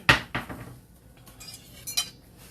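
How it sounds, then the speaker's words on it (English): A utensil clinks and scrapes against a bowl while stirring cornbread batter, with a few sharp taps spaced out over a couple of seconds in a quiet kitchen. "Okay, let's stir this up a little bit"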